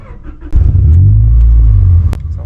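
A Honda Prelude VTEC engine cranks and catches, bursting into a loud, close idle rumble that holds steady, then drops back as a sharp click sounds.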